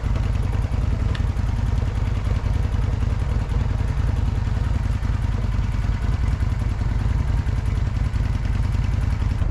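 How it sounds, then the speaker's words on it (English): A 1996 Kawasaki Vulcan 800 motorcycle runs steadily after 25 years of sitting in a garage. The engine gives a loud, continuous, close-up rumble that holds an even level throughout, with no talk. "This baby's running right now after 25 years of sitting in the garage."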